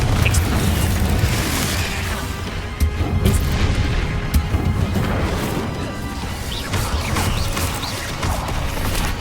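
Repeated Confringo spell explosions crash and boom in Hogwarts Legacy combat, a steady run of loud fiery blasts and smashing impacts with no talk over them.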